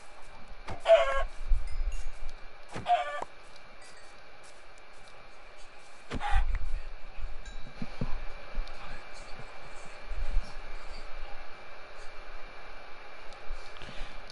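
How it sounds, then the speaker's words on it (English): Chickens in the video game Minecraft cluck in short, bright bursts, a few seconds apart, over a quiet, steady game ambience with low thumps between the calls. "So much chickens."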